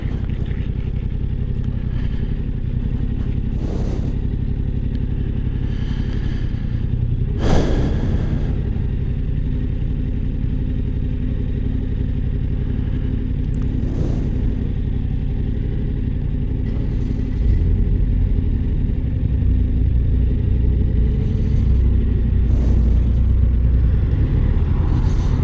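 A 2023 Yamaha MT-07 motorcycle engine hums steadily while riding, with a low rumble and occasional clattery bumps and brief surges, close and continuous throughout.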